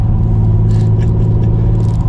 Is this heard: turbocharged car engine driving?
yes